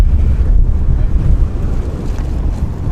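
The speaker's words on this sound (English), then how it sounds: "It's also pretty windy." Steady wind buffets the microphone at an open Montana dinosaur dig site beside an exposed riverbed, a loud, continuous low rumble with gusty swells and no voices.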